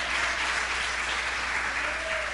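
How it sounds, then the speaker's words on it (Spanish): A church congregation gives a sustained round of applause, dense even clapping from many people throughout, with a faint tonal hum underneath and no clear speech. "da un aplauso a Dios por eso"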